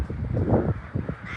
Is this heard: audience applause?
no